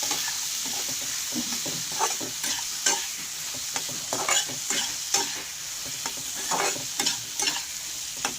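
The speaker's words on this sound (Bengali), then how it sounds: "ভালো করে এগুলোকে একসঙ্গে আমি কষিয়ে নেব।" Spices with turmeric and chili powder are stir-fried in a pan for a fish curry with potato and eggplant, quiet scraping strokes repeating unevenly over a soft continuous sizzle.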